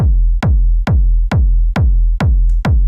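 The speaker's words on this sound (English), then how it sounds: "So first thing we're gonna need is a kick, a good kick." A standard electronic kick drum for a techno track plays alone, seven punchy, booming hits at a steady pulse about twice per second, each with a deep sustained low tail.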